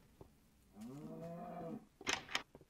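A video-game cow gives one drawn-out moo, close and clear, followed by a couple of short sharp clicks.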